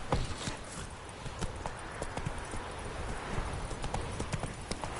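Galloping horse in The Witcher 3, hooves pounding in a quick steady rhythm close by, with a busy outdoor game soundscape underneath.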